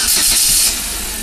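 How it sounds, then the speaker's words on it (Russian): A 2010 Kia Rio petrol engine cranks and catches with a loud, hissing burst of sound up close, then settles abruptly into a quieter, steadier running noise. "Запуск мотора."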